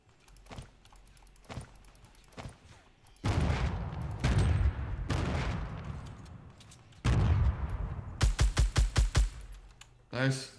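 Fortnite gunfire crackles in loud bursts and rapid strings of shots, with a quick volley of evenly spaced blasts near the end and quieter keyboard clicking between them.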